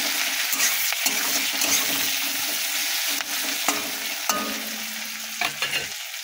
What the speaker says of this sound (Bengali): কাঁচা লঙ্কা আর পেঁয়াজটা দিয়ে দেবো, দিয়ে একটু নাড়িয়ে নেব